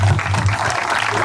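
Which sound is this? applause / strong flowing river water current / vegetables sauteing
applause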